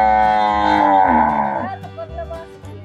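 A cow moos in a Rajasthan tribal village, one long drawn-out low call that swells and then fades. Quieter lowing and rural background noise follow, and no one speaks.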